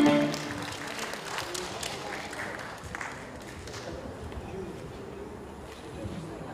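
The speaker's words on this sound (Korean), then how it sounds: "큰 박수 부탁드리겠습니다." Applause from an outdoor audience at a Chuseok holiday concert in an Incheon park as the conductor is welcomed, steady mid-level clapping that holds throughout with some faint background chatter.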